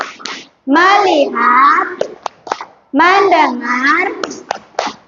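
Classroom children chant the tepuk fokus clap routine, loud sung voices broken by sharp, rhythmic hand claps close by between the phrases.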